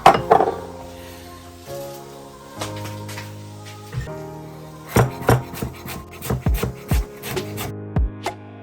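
A chef's knife chops keerai greens for vada on a cutting board, giving sharp, close knocks that start sparse and then come in quick irregular bursts, with no talking.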